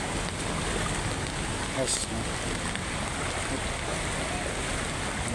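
Deep floodwater flows along a Manila street between Pedro Gil and Malate in a continuous, dense rush and churn, with a brief splash partway through and someone speaking over the water.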